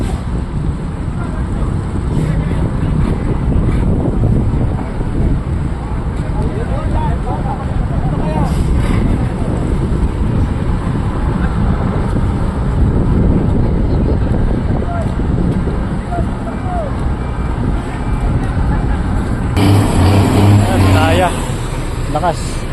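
Ship engine running loudly during cargo unloading at a port on a ship's arrival, a dense continuous roar mixed with wind noise, while people talk nearby.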